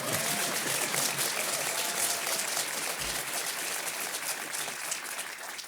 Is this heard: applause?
yes